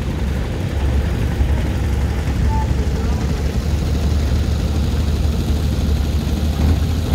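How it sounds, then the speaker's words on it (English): Old tractor with a Chrysler 230 six-cylinder engine running steadily at a farm club tractor parade, a loud continuous low rumble filling the whole stretch with outdoor background noise. "it has a Chrysler 230 six-cylinder engine in it"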